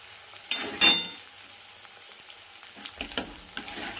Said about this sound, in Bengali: নাড়াচাড়া করে নেব, সুন্দর করে ভেজে নেব ভালো করে আদা রসুন বাটা আর পেঁয়াজটা